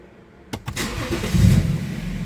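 A car engine cranks with a couple of quick starter bursts, then catches and settles into a steady close idle, loud and alone.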